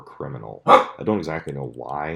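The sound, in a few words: dog barking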